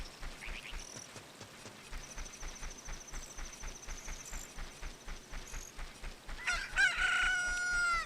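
A chicken freshly hatched from an egg in Ocarina of Time crows loudly near the end, a shrill rooster cock-a-doodle-doo following a steady rhythmic hoof-like clip-clop beat and brief chirps, no talking.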